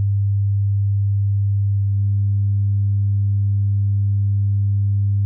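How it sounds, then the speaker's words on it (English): A steady low 100 hertz sine tone hums alone; about two seconds in, faint higher even harmonics join, the tone continuing unchanged and loud. "So this is a 100 hertz sine wave."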